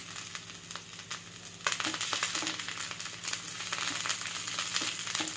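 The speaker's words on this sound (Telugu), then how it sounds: "ఇవన్నీ కొంచెం వేగనిద్దాం." Cumin seeds, green chili and coriander frying in a hot pan, a steady crackling sizzle that jumps louder about a third of the way in and keeps spitting with small pops, no voices.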